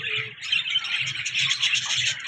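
A breeder pair of black swallow fancy pigeons calls in quick, bright chirping bursts, close and fairly clear with a faint low murmur underneath.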